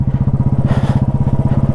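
A motorcycle engine throbs loudly and close with a fast, even exhaust pulse as it pulls away on the high-altitude Baralacha La Pass road, a brief scrape or rush rising midway.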